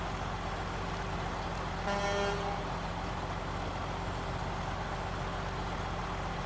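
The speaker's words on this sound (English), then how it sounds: "It sounds like someone didn't really have enough air in their lungs to blow a really cool horn." A truck in a video game gives one short horn toot of about half a second, set against a steady engine idle hum.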